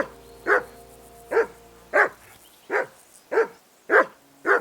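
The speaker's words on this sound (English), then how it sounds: "that barking was a pain in the ass" Seven loud, close dog barks from the video game Kingdom Come Deliverance 2, evenly spaced in a steady, insistent rhythm over a quiet background.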